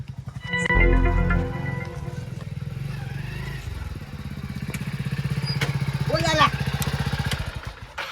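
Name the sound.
motorbike engine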